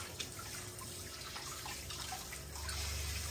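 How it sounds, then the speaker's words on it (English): Hot water runs from a tap to wash pork ribs, a quiet, steady splashing flow that grows slightly louder toward the end. "I like to wash things in hot water because hot water breaks things down quicker"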